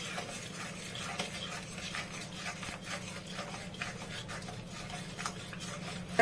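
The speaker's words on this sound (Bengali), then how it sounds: "এবার মশলাটাকে খুব ভালো করে কষাবো।" A spatula scrapes and stirs a spice masala of Kashmiri chilli powder and ground coriander in a pan, soft repeated rubbing strokes over a faint, low sizzle.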